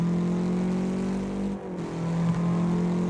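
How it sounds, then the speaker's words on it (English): A boxer-sounding engine on a modded car in the Wreckfest racing game hums at a steady drone, then briefly dips and revs back up, loud and close with no talking. "The engine definitely sounds still boxerish."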